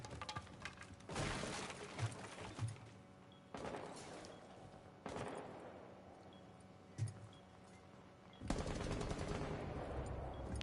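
Gunfire from a weapon in Rainbow Six Siege: several rapid automatic bursts separated by short pauses, with sharp individual reports and ringing tails, loud and close.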